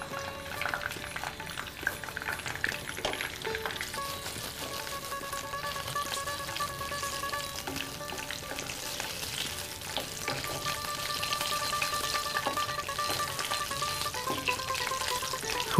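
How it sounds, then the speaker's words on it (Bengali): Dry red chillies and bay leaves fry in hot oil for chholar dal, a steady, close sizzle with faint crackles running unbroken throughout, with no voices. "শুকনো লঙ্কাটা যখন ফাটতে শুরু করবে তখন বুঝবো যে শুকনো লঙ্কার কাজ হয়ে গেছে"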